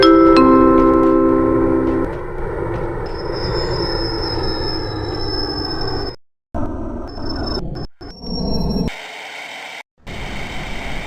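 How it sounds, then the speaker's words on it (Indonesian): A KRL commuter train in Trainz Simulator rolls into a station on track 2, with a steady loud rumble of wheels on rails, a high squeal, then abrupt cuts and a hissing static wash near the end. "Jalur 2 masuk KRL komuter lain dengan tujuan akhir stasiun Bogor."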